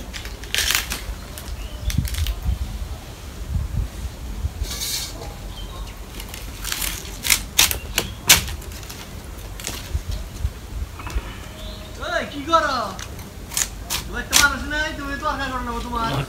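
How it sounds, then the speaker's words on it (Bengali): Cauliflower and other vegetables are cut by hand in a Bangladeshi village kitchen, giving sharp, irregular knife chops and crunches close by, while voices are heard in the background. "ফুলকপি সবজিগুলো কেটে ফেলি।"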